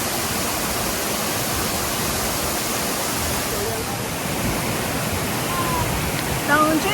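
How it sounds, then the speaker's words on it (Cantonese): A waterfall on Wang Chung Stream in full flow after heavy rain roars as a dense, unbroken rush of water, loud and close, with a voice faintly present beneath the torrent. "而係呢一個不知名嘅瀑布，真係只有大水先見得到"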